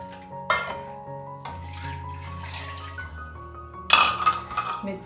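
Water drawn from a tap in a home kitchen while cooking, with a running stream, splashing and a couple of clinks of a vessel, close by with no talk.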